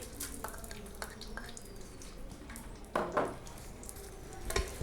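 Chopped onion frying in oil in a cooking pot for desi chicken jalfrezi: soft crackling sizzle with scattered spatters and stirring scrapes, fairly quiet and close, no talk.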